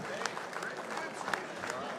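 Fathers and sons at an oldtimers luncheon get applause from the crowd, a steady patter of clapping mixed with murmuring voices and chatter in the room.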